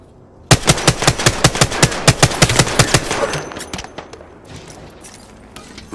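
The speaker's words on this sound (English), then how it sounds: "Opening fire" Rapid automatic gunfire in the Apex Legends shooter, a fast burst of about fifteen loud, evenly spaced shots that stops abruptly, followed by scattered clatter and faint echoing tail.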